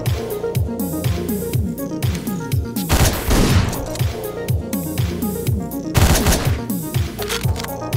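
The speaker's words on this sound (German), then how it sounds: "brauche eine Schrotflinte für den Dicken." Rapid, repeated gunshots rattle continuously in a busy Hotline Miami game soundscape, with heavier shotgun blasts standing out now and then over the steady firing.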